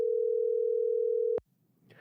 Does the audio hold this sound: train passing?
no